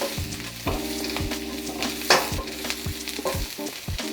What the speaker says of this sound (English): Now that the shallots are soft, I'm going to stir in some garlic.